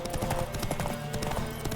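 A horse's hooves clip-clop at a steady trot in the video game The Witcher 3, fairly faint under a busy background of game music and ambience.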